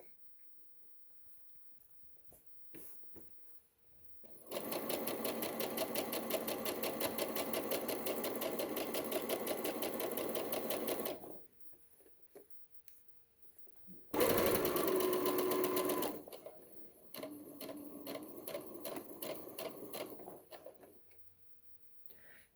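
Sewing machine stitching a seam on pajama shorts, running in a long steady burst, then a short louder run and a final stretch of back-and-forth stitching, with quiet pauses between.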